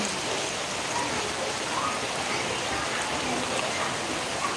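Steady rain falls outdoors as a dense, even hiss that holds at a constant level for the whole stretch, with no break and no voices over it.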